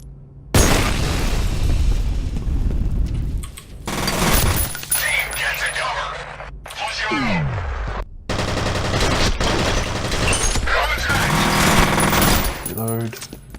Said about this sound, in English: he threw a grenade back at me